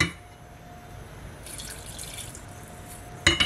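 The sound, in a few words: pouring hot milk into béchamel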